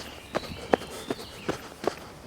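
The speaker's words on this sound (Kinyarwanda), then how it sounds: "Mukerarugendo urimo arirukanka se" A tourist running through the Amazon rainforest: five evenly spaced footfalls land roughly every 0.4 seconds, each a soft thud with a crunch of leaves, with no voices.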